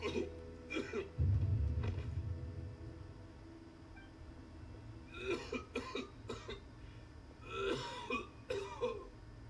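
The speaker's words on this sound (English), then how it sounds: "Why is he coughing so much?" A character coughs repeatedly in a Genshin Impact game cutscene, several harsh close coughs and throat-clearing bursts in clusters over a low ambient rumble.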